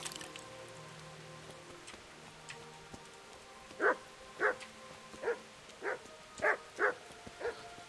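Dog barking in the medieval video game Kingdom Come: a string of about seven separate barks spaced roughly half a second apart, moderately loud over a quiet background.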